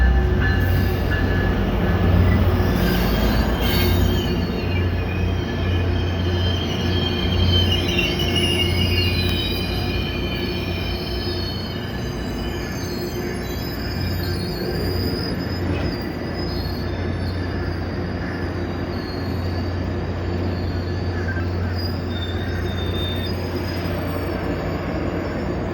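A Tri-Rail commuter train pulls into the MIA station, its wheels squealing loudly over a continuous rumble and clatter of rail cars passing close by.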